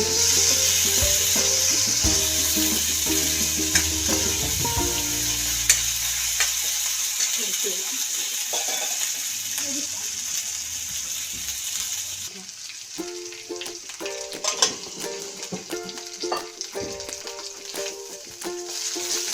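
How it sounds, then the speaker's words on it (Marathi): Masala paste for a bitter gourd curry fries in oil with a steady, loud sizzle, stirred with clattering and scraping strokes in a pan close by. "हे बघा आता आपले ही पेस्ट चांगली तळलेली आहे तेलामध्ये."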